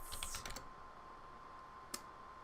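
Rapid computer keyboard typing, a short quick burst of faint clicks at the start followed by a single isolated keystroke, against a quiet steady hum.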